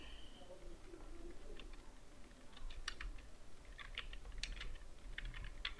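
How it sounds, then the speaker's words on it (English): Quick clusters of clicky keystrokes on a computer keyboard, typed at close range in a quiet room, faint overall with irregular bursts of taps and a brief sound near the start. "Type your form name."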